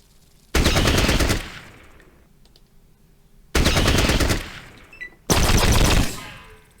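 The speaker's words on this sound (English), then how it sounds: "burst fire" Three long bursts of rapid automatic gunfire from the video game Fallout Tactics, each loud rattling stream lasting about a second or two, separated by quiet gaps with faint background hum.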